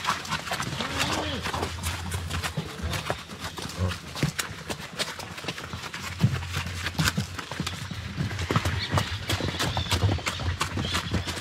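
Horse hooves clip-clop along a village path in Yelapa, Jalisco, Mexico, a steady close rhythm of hoof strikes running through the whole stretch amid busy outdoor background noise.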